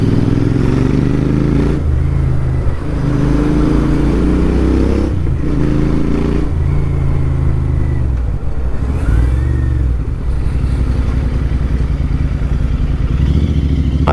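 A Royal Enfield Interceptor 650 twin-cylinder motorcycle rumbles loudly and continuously while riding on an open road, with wind noise and shifts in engine pitch as it accelerates and eases off.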